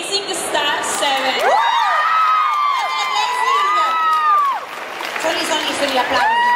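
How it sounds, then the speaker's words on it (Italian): Crowd cheering, whooping and applauding at an awards ceremony for a dance crew at GardaCon 2022 in Italy, a dense, loud wall of shouts with high rising yells, steady throughout with a brief dip near the end. "sono gli applausi"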